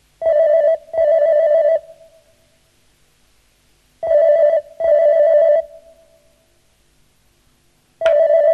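A telephone rings in short, loud double bursts, two pairs spaced a few seconds apart with the start of a third, like a ringback tone heard while a call is placed.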